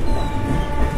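A train passes close by near Kharagpur station in West Bengal, producing a loud, steady rumble with a faint metallic hum throughout and no voices.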